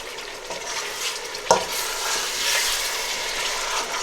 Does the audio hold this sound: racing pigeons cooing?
no